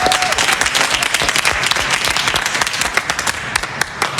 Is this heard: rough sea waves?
no